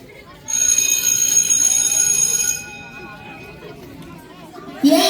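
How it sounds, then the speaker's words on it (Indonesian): An electric school bell rings loudly and steadily for about two seconds during a class drama performance, with children chattering before and after it. "Gak kerasa ya udah bel."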